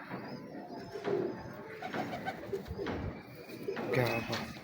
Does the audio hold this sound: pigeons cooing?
yes